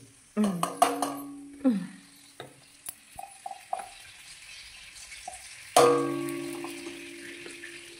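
Ghee sizzles in a pan while fried rice and chicken kosha are cooked, with stirring clatters and sharp bursts of frying heard up close, quiet between strokes.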